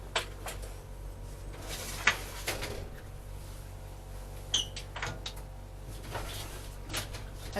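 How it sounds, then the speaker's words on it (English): Car doors being shut, several muffled thumps and clunks scattered across a few seconds, faint and somewhat distant over a low steady hum. "Close my doors."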